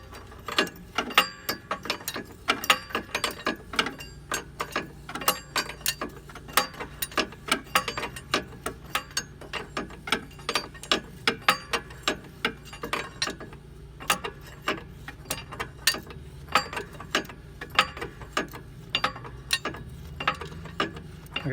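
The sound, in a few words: ratchet tightening the bottom nut of a shock absorber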